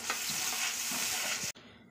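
Spatula stirring pea kachori filling in a hot sizzling pan, a dense steady fry hiss with a few soft scrapes, cut off abruptly near the end.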